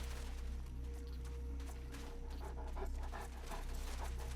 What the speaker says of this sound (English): Okay, I hear dogs.